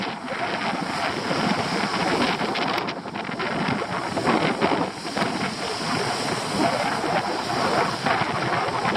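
Strong wind roars steadily across a seaside coast with turquoise water and rocks, buffeting the microphone in a loud, continuous rush with no talk.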